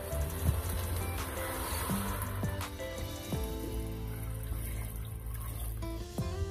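Water pours steadily into a pot of Brazilian feijoada with meat and beans, a continuous splashing rush with a few metallic clinks from the cookware.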